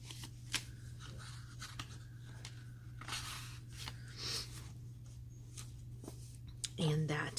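Pages of a handmade Halloween happy-mail journal are flipped, with papery rustles, flicks and soft crinkles at an uneven pace over a steady low hum. A voice talks quietly in places.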